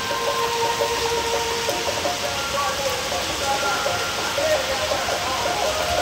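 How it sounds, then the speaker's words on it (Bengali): Steady rain falls throughout, a dense continuous hiss with a constant level and no pauses, with a few faint tonal traces mixed in under the downpour. "এরকম বৃষ্টি তোমাদের বাড়ির দিকে হচ্ছে কি না"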